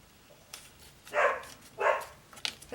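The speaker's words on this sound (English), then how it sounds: "There's a dog outside." A dog outside barks twice, distinct and fairly clear but somewhat distant, with a few faint clicks in a quiet indoor room between the barks.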